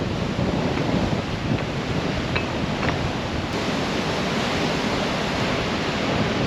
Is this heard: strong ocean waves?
yes